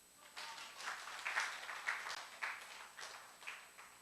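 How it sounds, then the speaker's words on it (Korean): A small congregation at a Sunday church service gives quiet, distant applause, a soft patter of claps rising and falling in a few waves. "박수 한번."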